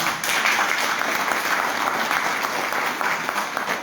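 An audience applauds, a dense steady wash of many hands clapping, loud and sustained throughout.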